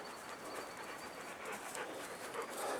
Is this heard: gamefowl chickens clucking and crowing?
no